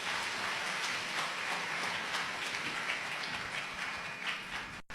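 An audience applauds a guest speaker, dense, even clapping that sustains for several seconds like a steady patter before cutting off abruptly.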